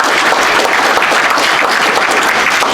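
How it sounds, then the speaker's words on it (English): A roomful of attendees at a hacker convention's lightning talks applauds, a loud, steady, close wash of clapping lasting a few seconds without speech. "Can I get another round of applause for everyone who did talk today?"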